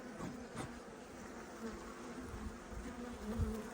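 A steady, dense buzzing of many honeybees from Diyarbakır at an apiary fills the air continuously, close and moderately loud, with no talking.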